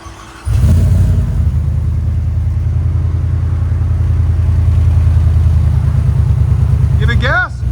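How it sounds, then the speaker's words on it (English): Supercharged 850+ hp Ford F-150 with a 5.0L V8, headers and a Valvetronic muffler with its valve closed, idling with a loud, steady, deep burbling exhaust rumble, close up, then cut off by a brief rising whine at the end. "Valvetronic designs muffler with the valve closed"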